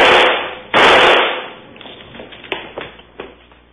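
A handgun fires in a practical shooting demonstration with movement. Two sharp, loud reports open the sequence, followed by lighter clicks and handling taps as the shooter moves.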